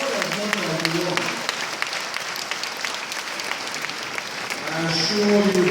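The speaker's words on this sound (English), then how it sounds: "You can applaud as much as you want." Applause from an audience at a climate change summit in Lagos, a broad steady wash of clapping that holds throughout and swells near the end, with faint voices underneath.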